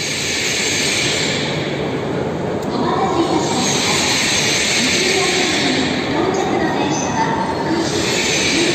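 A Shinkansen bullet train pulls into a Japanese station, a loud steady rush of rail noise and wheel hiss lasting throughout, with faint voices beneath it.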